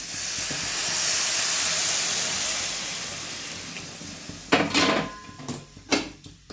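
Hot water sizzling and hissing as it is poured onto fried semiya and fresh coconut punugulu, a steady steam roar that fades before several sharp clattering bursts near the end.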